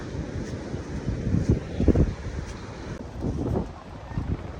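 Gusting wind on a bridge in Siargao buffets the microphone in low rumbling waves, with a faint voice briefly audible under it.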